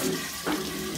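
Tap water rushes steadily into a water jug being filled, a close, continuous splashing pour with a brief surge midway and no talking.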